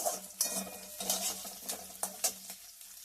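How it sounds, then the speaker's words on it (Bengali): Onions and five-spice fry in a kadai, a close sizzling hiss broken by repeated scraping and clinking of a spatula stirring against the metal pan. "এখানে কড়াইতে পেঁয়াজ দিয়েছি আর 5 ফোড়ন দিয়েছি।"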